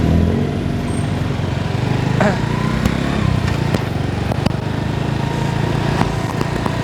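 A 110cc underbone motorcycle engine buzzes steadily during a test ride, a continuous close-up drone with wind and road noise and a few small clicks over the top.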